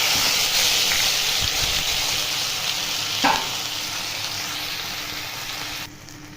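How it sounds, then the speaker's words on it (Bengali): Diced onion and tomato frying in oil left over from browning chicken, a close, even sizzle with a brief stir or scrape midway, the hiss dropping away near the end. "এবার একই তেলে আমি এখন ডুমো ডুমো করে কেটে দিয়েছি পেঁয়াজ আর টমেটো, ভেজে নেব"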